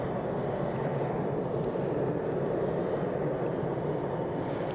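Gulfstream 280 business jet taxiing at an airport, a steady, moderately distant engine roar and whine with no voices.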